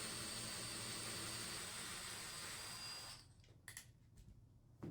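A power drill runs steadily at low speed while boring pin holes through knife scales, a loud continuous whine that cuts off abruptly after about three seconds, followed by a few brief clicks and handling knocks.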